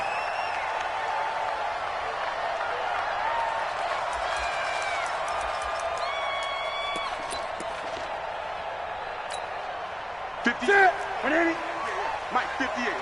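Stadium crowd noise in an NFL football video game on PS4, a Kansas City Chiefs home matchup: a steady, dense roar runs throughout with some brief voices and sharp thuds near the end.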